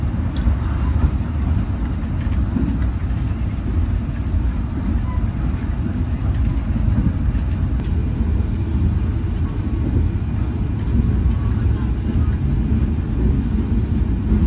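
The Bogowonto passenger train runs between Yogyakarta and Kutoarjo, heard from inside as a steady, loud rolling rumble of wheels and carriage noise, continuous and unbroken, with no talk over it.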